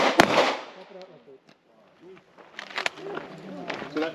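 A single sharp gunshot rings out during firearms training, loud and close, with a brief echoing tail, followed by quieter movement and someone speaking in the background.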